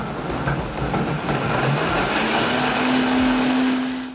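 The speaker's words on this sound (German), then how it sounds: "Deswegen werde ich jetzt meinen Mixer gleich auf volle Kanone hochdrehen und das Ganze 30 Sekunden nur laufen lassen." A kitchen blender whirring at full speed while blending oat milk, a loud, steady motor roar with a rising whine that settles into a high sustained tone, no talking over it.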